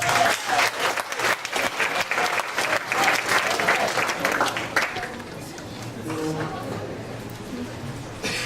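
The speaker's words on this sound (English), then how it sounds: "Can we have a warm round of applause for Shelly Matlock?" A poetry night audience breaks into warm applause, loud dense clapping for about five seconds that then thins out, with a speaker's voice coming in faintly as it fades.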